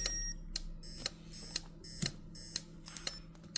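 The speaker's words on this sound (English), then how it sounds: "I'm going to trigger the alarm. And that's my paging notification." A Viper two-way remote car alarm sounds its triggered paging notification: a rapid series of sharp electronic beeps at about two per second, repeating evenly and close, with no talking.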